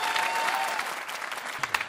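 A Calgary comedy debate audience applauding and cheering, a dense burst of clapping with a few whoops that thins toward the end.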